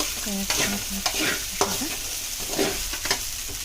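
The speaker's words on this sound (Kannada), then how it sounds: "ಚೆನ್ನಾಗಿ ತಿರುಗಾಡಿ, ನೀಟಾಗಿ ತಿರುಗಾಡಿ. ಸ್ವಲ್ಪ ತಳಗೆ ಹಿಡಿದ್ಬಿಡುತ್ತೆ." A spoon stirs soaked sabudana (tapioca pearl) khichdi in a pan, scraping the bottom in repeated close strokes about every half second over a soft, continuous sizzle.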